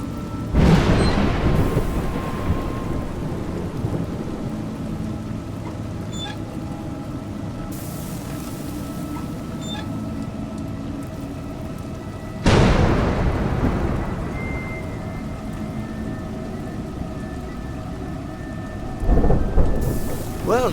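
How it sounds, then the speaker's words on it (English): Heavy rain with rolling thunder in the A Juggler's Tale platformer game: a steady downpour hiss broken by three loud, booming thunderclaps near the start, middle and end, each fading into a long rumble, no voices. "It's raining."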